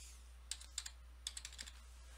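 Fingers tapping a computer keyboard in a quiet room, a couple of short bursts of crisp, close keystrokes with pauses between them and no talking.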